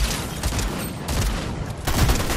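Repeated shotgun blasts from the Fortnite video game burst out loud and close, one after another, over a dense roar of game action with a heavy cluster of shots near the end.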